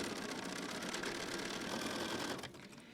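A sewing machine stitches quilt fabric with a quarter-inch foot, running in a close, steady mechanical whir before easing down in the last half second.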